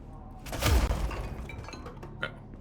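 Glass shatters in the video game Control, one sharp crash followed by scattering tinkling fragments and a small later clink.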